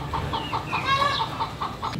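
Chickens clucking close by in a steady, rhythmic run of short, loud clucks with a brief squawk in the middle.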